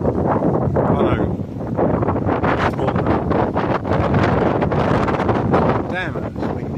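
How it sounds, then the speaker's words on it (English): Strong gusting wind buffets the microphone in loud, uneven bursts, with faint voices and rustling mixed in underneath, at a fortress with battlements in Zemun, Belgrade, Serbia. "Damn, it's windy."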